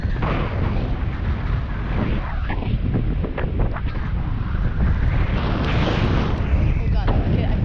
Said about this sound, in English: The wind, it's strong.